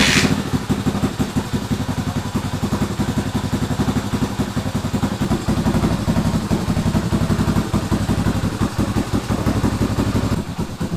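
An X21 Type M engine fires up and runs steadily at a fast, clattery idle, with a loud, close, continuous mechanical rumble that stays even throughout and has no voices over it.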